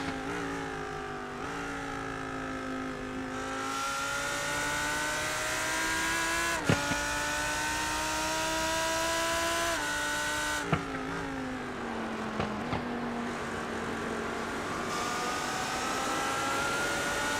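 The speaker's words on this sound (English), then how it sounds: "You'll hear a lot of pops from that rear exhaust that just sounds spectacular coming from that V10" A V10 GT3 race car in the iRacing sim at Watkins Glen roars steadily at high revs, its pitch climbing and dropping through gear shifts, with a few sharp exhaust pops cracking over the sustained engine note.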